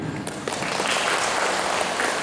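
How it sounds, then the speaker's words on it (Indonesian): An audience at an Isra Miraj religious gathering claps together in a short, dense burst of applause, fairly loud and steady across a couple of seconds. "Tepuk tangan dulu."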